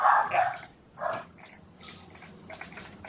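A dog barks twice, nearby and fairly loud, with a short gap between the barks, then quieter room sound follows.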